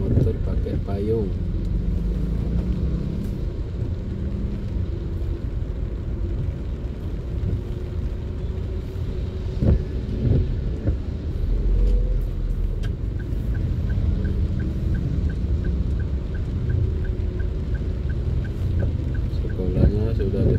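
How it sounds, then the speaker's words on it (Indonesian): Cars crawling in a rainy traffic jam, heard from inside a vehicle as a steady low engine and road rumble with wind noise, while people talk throughout. "Jalannya macet karena hujan, jadi pada pakai mobil."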